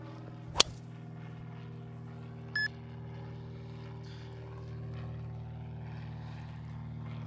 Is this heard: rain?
no